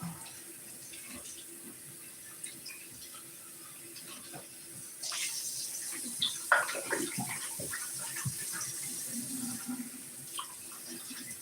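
Water runs and splashes as a wine-making container is rinsed out, starting as a faint background trickle and swelling midway into a louder, steady gush with sloshing bursts.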